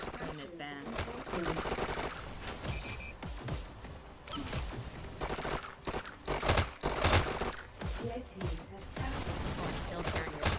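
Rapid SMG gunfire in a VR e-sports shooter match, dense overlapping bursts of shots throughout with commentary talking over the action.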